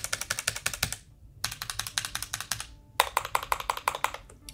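Keystrokes on a ROCCAT Vulcan II Mini Air wireless keyboard, with the backspace pressed repeatedly in three quick bursts of close, crisp clicky taps separated by short pauses.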